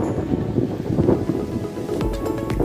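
Wind buffets the microphone in uneven low gusts at Tapindag, a continuous rushing roar with no voices.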